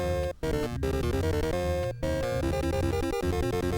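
Short repetitive NES chiptune melody from the Back to the Future video game, bright square-wave tones looping with brief gaps, moderately quiet and without speech.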